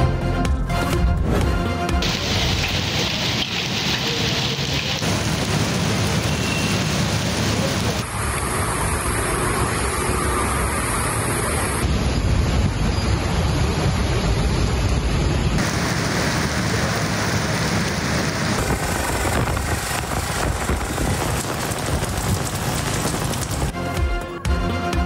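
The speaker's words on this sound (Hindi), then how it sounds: "इस्लामाबाद के मुख्तलिफ इलाकों में बारिश।" Heavy rain pours during a thunderstorm in Islamabad, a dense, loud, continuous hiss of rainfall with deep rumbling underneath, running steadily for the whole stretch.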